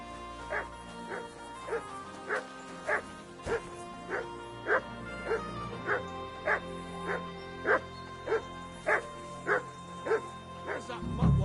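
Dog in Kingdom Come Deliverance 2 barking in a steady, evenly spaced series of about fifteen sharp, moderately loud barks over a quiet background hum, with a brief spoken phrase near the start.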